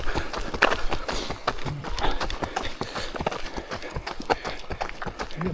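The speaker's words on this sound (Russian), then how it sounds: "Лошадь, слышал, да?" Horse hooves clip-clopping on a foggy forest trail in Alania, a rapid irregular clatter of steps at moderate distance, steady throughout with faint voices in the background.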